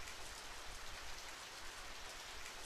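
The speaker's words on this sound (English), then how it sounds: "Oh, now it actually starts raining." Steady rain pours in the video game Radiant Historia, a soft, even hiss of downpour that stays constant and faint, with no voices.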